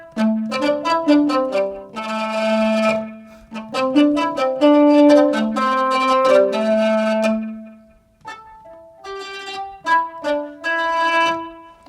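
A plucked, struck dulcimer-like synth patch on an Expressive E Osmose plays rapid repeated notes and short melodic runs, ringing brightly with a pause near the end.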